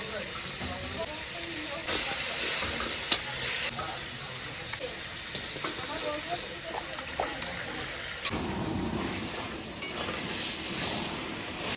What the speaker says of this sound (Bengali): মাছ ভাজা হয়ে গেছে, বাকি তেলে আমি এখন রান্নাটা করব।